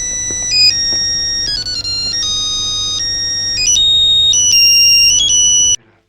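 A mobile phone ringtone plays loud and close, an electronic melody of sustained stepping tones running continuously for about six seconds before cutting off abruptly.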